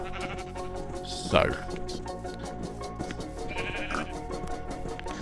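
Sheep in the Minecraft modpack Monifactory, penned together with cows, give a single clear bleat and then a fainter second one, heard over someone talking and a steady background of game music.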